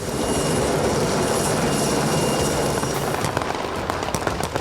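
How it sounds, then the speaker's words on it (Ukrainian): Military aircraft roar overhead during a training exercise at a Polish range, with MiG-29 and F-16 fighter jets and helicopters producing a loud, steady, rumbling wash with crackling bursts near the end. "бійців на воді з неба прикривають військово-повітряні сили. Зокрема, винищувачі міг 29 і Ф-16, а також гелікоптери"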